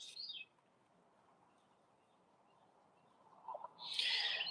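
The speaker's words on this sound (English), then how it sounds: "Glad that you like the sound of the birds in the morning." Birdsong in a morning garden, with brief bright chirps at the start and a louder burst of calls near the end over a quiet background.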